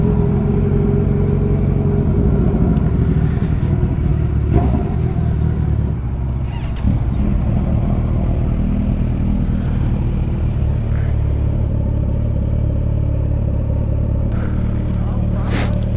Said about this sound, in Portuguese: Vamos ligando as máquinas.